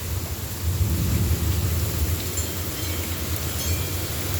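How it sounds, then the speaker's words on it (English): A Florida thunderstorm with heavy rain: a loud, constant wash of downpour over a low, rolling thunder rumble that persists throughout, with no voices. "is a rainstorm. Look at that rain just going over there."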